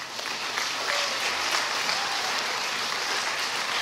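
A congregation at the Calvary Bible Institute 2023 graduation claps together in a dense, even wash of applause that holds steady and fairly loud throughout.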